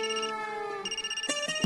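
A mobile phone ringing indoors with a bright, electronic ringtone that plays as a series of sustained, stepping tones, close and clear, with no talk over it.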